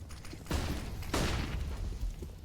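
Grenades landing and bursting on B site in a Counter-Strike: Global Offensive pro match, two loud broadband blasts about half a second apart over a steady rumble of match noise, with no voices.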